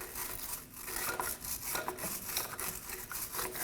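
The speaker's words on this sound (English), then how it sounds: "Using a wire brush or a light grit, we're going to clean up our shaft." Wire brush scrubbing corrosion, rust and dust off a gear selector shaft on a 2008–2015 Scion xB, a close, continuous rasping scrape with quick repeated back-and-forth strokes.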